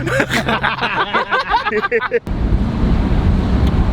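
Wind roars steadily across an open-top convertible car on the move, a broad rushing wash that abruptly takes over after a stretch of lively talk and laughter.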